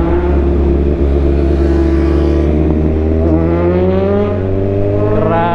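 An inline three-cylinder car engine running loud and close while driving, a steady low drone with engine pitch slowly rising and falling, no talk.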